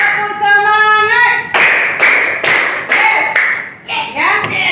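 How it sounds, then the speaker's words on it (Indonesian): Primary-school children in a classroom clap in a fast rhythmic chant, loud bursts of clapping with group voices following a teacher's call. "Tepuk semangat."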